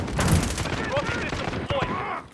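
Gunfire in the Modern Warfare video game rattles in a rapid fusillade of sharp bursts, loud and close, with brief game voice callouts mixed in.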